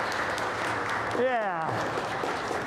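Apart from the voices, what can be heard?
welcome applause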